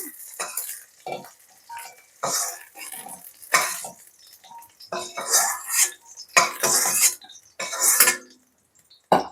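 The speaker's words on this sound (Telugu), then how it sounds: "ఇప్పుడు మనం కట్ చేసుకున్న పచ్చిమిరపకాయలు వేయించుకోవాలి." Green chillies frying in a pan for a tomato chutney, with repeated bursts of stirring and utensil scrapes against the pan over a soft sizzle, close up and without talk.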